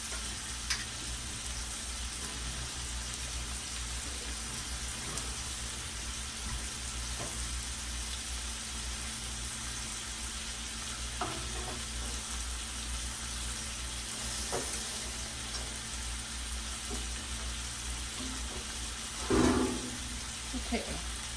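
Pot roast searing in a hot pan, a faint continuous sizzle with occasional soft clicks over background hum, and a louder clatter near the end.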